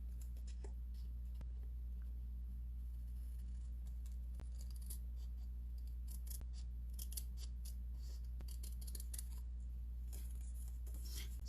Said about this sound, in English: you're going to trim around the edges